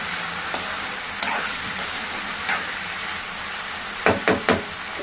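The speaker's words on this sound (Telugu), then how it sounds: "ఇప్పుడు దీంట్లో మనం సన్నగా కట్ చేసుకున్న బీరకాయ ముక్కల్ని కడిగి వేసేసుకుంటున్నాము." Washed, thinly sliced ridge gourd pieces tossed into a hot pan, a steady sizzle with a few light scrapes and a cluster of knocking stirs near the end.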